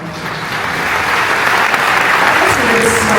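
Audience applause in archival footage, a broad wash of clapping that swells steadily louder, with voices faintly underneath.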